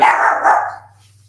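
A small dog barks up close in a quick burst of sharp yips, then the sound breaks off into near silence.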